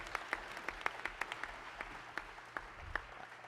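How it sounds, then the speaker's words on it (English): A crowd applauds with scattered, uneven claps that rise and fall over a few seconds, moderately loud and fairly close. "let's give another round of applause"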